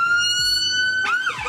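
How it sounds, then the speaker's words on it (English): A loud emergency vehicle siren wails steadily close by outside, its pitch sweeping and shifting near the end as it passes. "Hold on, siren."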